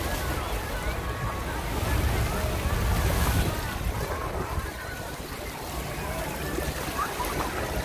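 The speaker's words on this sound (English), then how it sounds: "We're at the wave pool." Water churning and washing in a waterpark wave pool on a hot day, a steady broad rushing surge mixed with wind buffeting the microphone, swelling slightly midway.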